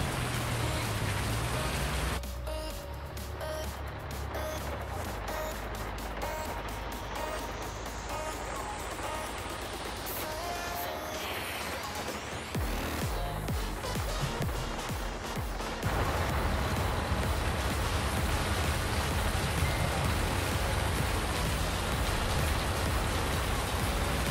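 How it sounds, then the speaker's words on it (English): Steady rain hisses across a farm map in the video game Farming Simulator 19. The wash is dense and continuous, with scattered clicks and thumps, and it grows louder and fuller after about sixteen seconds. "I like the rain too. The way it sounds is so much nicer than it did before."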